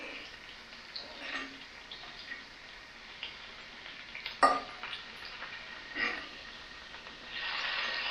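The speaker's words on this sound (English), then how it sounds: "Bacon's already on the pan and starting to cook." Bacon cooking in a pan on a wood stove, a quiet soft sizzle with scattered small pops and ticks and a brief louder crackle, swelling into a steadier hiss at the end.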